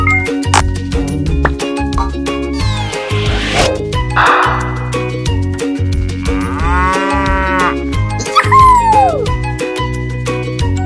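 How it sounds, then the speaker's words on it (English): A toy plays a recorded cow moo among other animal sounds over a looping electronic music track, loud and close, with the moo rising and falling in a long drawn-out call. "Cow."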